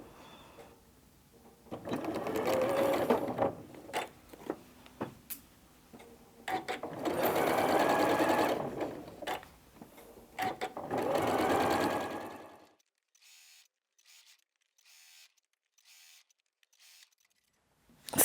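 A sewing machine stitches a quilt block seam in three long, steady whirring runs separated by short pauses and small clicks, then falls quiet apart from faint handling taps at the end.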